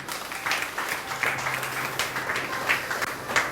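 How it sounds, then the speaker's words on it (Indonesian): Applause from a church congregation during an Ascension Day worship service, a fairly steady wash of clapping over a few seconds, with a faint held tone beneath. "Tepuk tangan bagi Allah kita"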